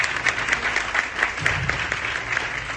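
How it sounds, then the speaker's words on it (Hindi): Audience applause for a couple being honoured on stage at an Amway business celebration event in Chandigarh, a steady wash of many hands clapping throughout, moderately loud and continuous. "बहुत जोरदार तालियां उनके लिए।"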